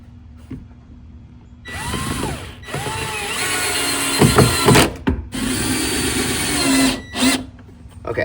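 Power drill driving screws into the wooden panels of an Aleko Liatris barrel sauna, several loud whirring bursts of a few seconds each with short pauses between, close by and with no talk.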